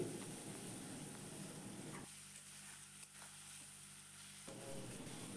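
Poppy seed paste being stirred gently in a pan for jhinge aloo posto, a soft steady sizzle with light scraping throughout, quieter and thinner in the middle stretch before filling out again.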